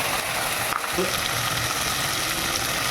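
Curry leaves and tomato frying in hot oil for a sardine curry, giving a steady, close sizzle and crackle with a brief stir or drop near the one-second mark and no talking.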